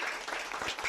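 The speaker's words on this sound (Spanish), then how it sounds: "Yo creo que esto merece un aplauso, ¿no?" A conference audience breaking into applause, a brief, fairly even wash of many hands clapping, heard at a moderate distance.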